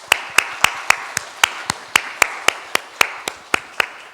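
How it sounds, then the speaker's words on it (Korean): A church congregation gives a round of thankful applause during a Korean Sunday worship service, heard as a steady series of sharp, evenly spaced claps with a light background of many hands, no talking. "감사의 박수 한번 하겠습니다"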